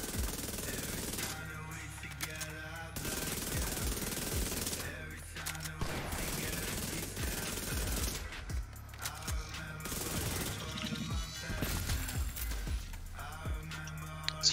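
Enemies open fire in The Division video game during a solo heroic mission, sustained bursts of automatic gunfire crackling at moderate distance under game sounds and occasional talk.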